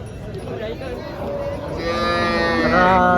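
Cattle lowing in a busy cow market crowd at Chalisgaon, several moos rising and overlapping toward the end over a steady background din.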